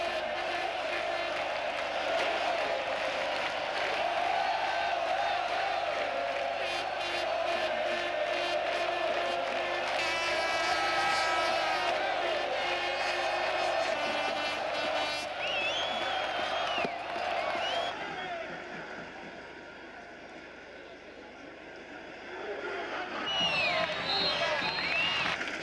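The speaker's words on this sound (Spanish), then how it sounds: "Un delirio colectivo se adueña de las gradas." Football stadium crowd erupting in sustained, loud cheering and roaring after a goal by UD Las Palmas, a dense wall of voices with whoops and whistles rising on top, dipping briefly near the end before swelling again.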